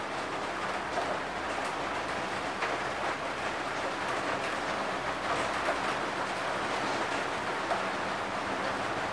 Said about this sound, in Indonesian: di sini kondisinya hujan ya